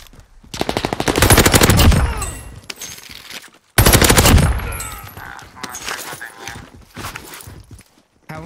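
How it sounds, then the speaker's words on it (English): Rapid bursts of STG 44 automatic fire in Warzone Pacific, two loud close volleys of sharp repeated shots separated by a brief gap, followed by quieter trailing shots and game ambience. "He's shooting me."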